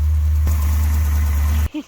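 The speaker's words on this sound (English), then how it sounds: "I got the engine idling high on purpose." A 1973 Plymouth Satellite big-block Six Pack engine idles steadily at a raised, even drone, close and continuous, then cuts off abruptly near the end.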